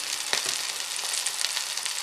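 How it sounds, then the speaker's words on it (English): Close, steady crackling sizzle of a burger patty frying in a hot pan, with small pops scattered through the hiss. "Yeah, isn't that sizzle?"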